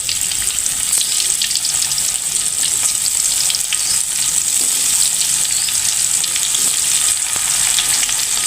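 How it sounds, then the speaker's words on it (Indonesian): Tempeh sizzles and spatters steadily in hot oil in a pan during an Indonesian ngaliwet cook, a dense, continuous crackle close up and loud for the whole stretch, with no voices. "Goreng tempe nah."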